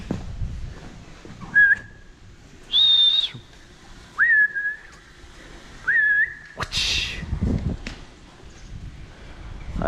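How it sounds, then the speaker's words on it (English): Several short, shrill human whistles to scare off starlings, rising and sliding in pitch, spaced a second or two apart over quiet outdoor rustling and low background noise. "make a whistling sound, and I reckon it'll all fly off"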